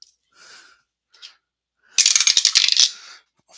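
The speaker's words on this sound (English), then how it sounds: "Have to re-roll the dice" Dice for an APBA baseball tabletop game get picked up with a couple of soft clicks, then shaken and rolled in a loud, rapid clatter lasting about a second before settling into quiet.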